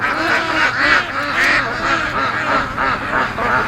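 Several free-range ducks on a lake give repeated raspy quacks, close and fairly loud, in a steady rhythm of overlapping calls.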